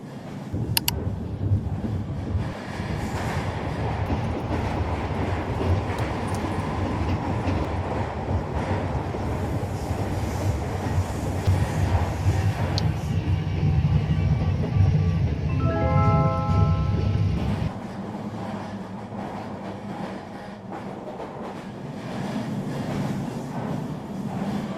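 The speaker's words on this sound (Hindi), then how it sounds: "ट्रेन काफ़ी ज़्यादा शेक भी कर रही थी, बहुत ज़्यादा हिल रही थी" Luxury Green Line passenger train running from Karachi to Islamabad, heard from inside as a steady loud rumble with rattling and wind roar that suddenly drops to a softer hum near the end.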